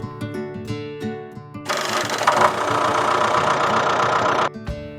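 A tractor engine runs with a loud, steady, rough mechanical chug and faint knocking. It starts abruptly, holds for about three seconds and then stops, with light background music before and after.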